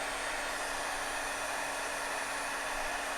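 A heat gun drying paint on an art journal page blows a steady, loud, breathy roar with a faint whine, unbroken throughout and with no voices.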